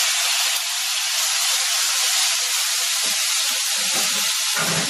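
Onion and tomato sizzle and hiss steadily as they sauté in a pan, a loud, continuous frying sound that stays even throughout with no talk over it.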